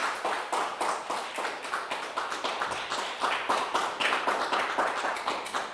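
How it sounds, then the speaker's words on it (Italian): Sustained audience applause from a theatre crowd at an Italian beauty pageant show, dense steady clapping filling the hall with a few louder surges, no voices over it. "delle nostre miss che fanno gli applausi dal camerino"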